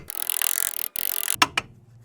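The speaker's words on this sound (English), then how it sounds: "I'll give the caliper a bang with a hammer just to loosen it all off" A hammer strikes a sticking brake caliper on a 1.9 PD Skoda Fabia Mk1. A long rasping, scraping stretch comes first, then two sharp metallic knocks ring out close together.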